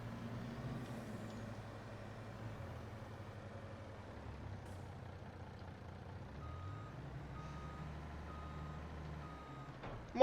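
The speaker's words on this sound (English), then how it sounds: "This truck here can get parked over here for the time being." Truck carrying 20,000 liters reversing in a farming video game, its steady repeating reversing beeps sounding over a low idling engine hum, with a faint hiss of air brakes.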